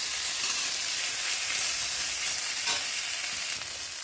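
Neem flowers frying in hot oil in a pan give a loud, dense, continuous hiss and sizzle that dips slightly near the end, with no talking.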